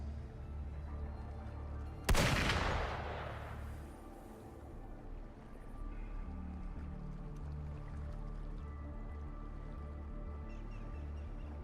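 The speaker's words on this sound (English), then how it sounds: "Gunfire!" A single sharp, loud video game gunshot cracks out and rings away, followed by a low rumbling background drone.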